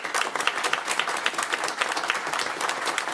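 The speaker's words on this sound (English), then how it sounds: "A round of applause for" Brief round of applause from attendees at a city council meeting, a steady patter of many hands clapping at moderate volume, heard alone without speech.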